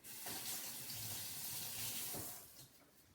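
A kitchen tap runs steadily for a quick rinse, giving a soft, continuous hiss of water that fades out toward the end.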